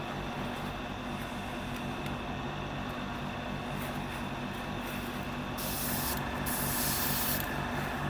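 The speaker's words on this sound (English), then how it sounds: "we're going to do some spraying" A steady, continuous hiss of spray painting a 1/6 scale Wonder Woman figure runs throughout, evenly loud and close, swelling slightly brighter near the end.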